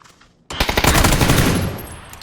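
Automatic gunfire in PUBG erupts suddenly after a brief near-silence: a loud, close, rapid burst of shots that keeps rattling over its own echo until the end.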